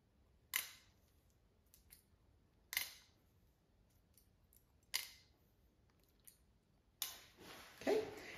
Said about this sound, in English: We're just gonna barely trim this.